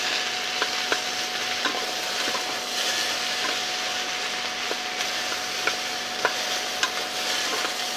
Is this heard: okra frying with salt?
yes